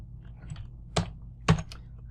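Someone types a name on a computer keyboard: a handful of sparse keystrokes with two sharper clicks standing out, quiet and close, no talking.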